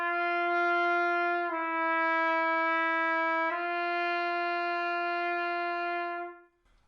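Trumpet playing the F Remington exercise, a sustained note that steps down a half step and back up, held clear and steady for about six seconds before stopping, with no talking.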